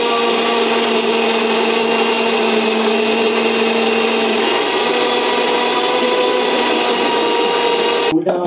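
An electric mixer grinder grinding ingredients, a loud, steady whirring drone that runs continuously before cutting off abruptly near the end, with no speech heard.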